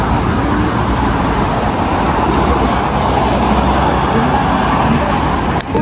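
A crowded city bus rolls through Seoul, filling the ride with a loud, steady engine rumble and road roar from the inside, with no clear speech.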